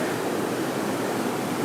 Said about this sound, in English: I'm just walking across the bridge, which runs above the weir